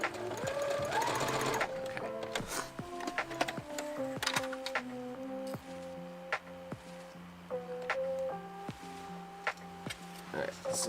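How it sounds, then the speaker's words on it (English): Sewing machine stitching a seam on scrubs, heard up close as rapid mechanical whirring bursts that start, stop and restart with clicky pauses between runs, fairly loud with no talking. "So that finishes off the first seam line."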